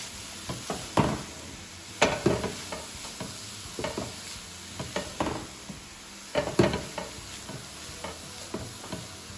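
A green bean and coconut fry gets mixed in a pan, with irregular scraping strokes of a spoon and soft sizzling between them, close and without talk.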